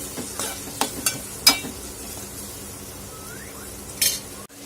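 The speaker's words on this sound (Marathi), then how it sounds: "कांदा हे मी बारीक चिरून घेतला आहे ते आपण यात घालून घेणार आहोत आणि छान याला कांद्याला परतून घ्यायचं आहे आपल्याला" Finely chopped onion sautéed in a pan, a soft sizzle under a few sharp clinks and scrapes of a spoon stirring against the metal, fairly quiet and close.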